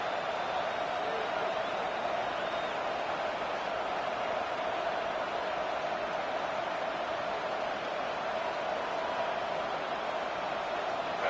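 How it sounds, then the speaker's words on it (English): An Auburn football stadium crowd on third down makes a broad, steady roar that holds evenly throughout with no clear peaks, sounding distant and washed out. "This Auburn crowd trying to conjure up a little magic here on 3rd down."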